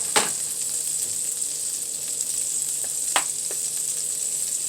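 Curry-seasoned shrimp fry in a pan with a steady, close sizzle, broken by a few sharp clicks and scrapes from stirring.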